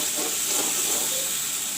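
Masala stuffing with parval seeds and salt frying in a pan, a close, steady hiss and sizzle holding at constant loudness throughout.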